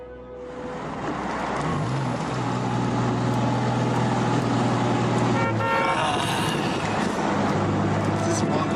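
A locally hand-built car cruises along the open road, its steady engine and road noise droning throughout, with brief horn-like tones and a shift in sound partway through.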